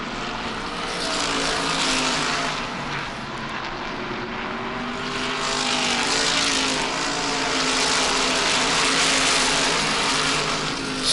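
Race cars roar around a track in a continuous engine drone that swells and fades as they pass, loud and steady throughout with no speech.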